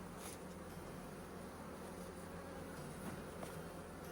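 Honey bees buzz as a steady, dense drone from an open hive during an inspection after a Formic Pro mite treatment, a close, continuous hum with no talk over it.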